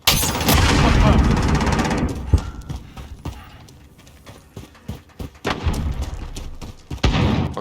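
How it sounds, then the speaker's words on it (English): A grenade goes off in Call of Duty: Modern Warfare as a loud booming blast, followed by scattered near gunshots and thuds, with someone talking between the shots. "Throwing grenade!"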